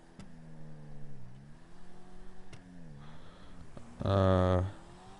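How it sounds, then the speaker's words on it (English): Video game car engine humming and shifting in pitch, ending in a loud, buzzy rev burst for about half a second. "Anyway, yeah, this car sounds really nice."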